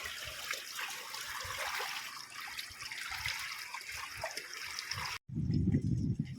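Floodwater at high tide in a low-lying street sloshes and splashes continuously as a person wades into it, followed by a brief cut and a louder, closer rumble of moving water.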